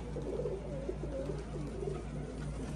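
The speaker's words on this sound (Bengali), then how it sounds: "তো দেখি বেরোতে পারে কিনা পায়রাগুলো।" Giribaz pigeons at a pigeon farm coo in soft, repeated low rolling calls, fairly close and steady over a constant background hum, with no talking.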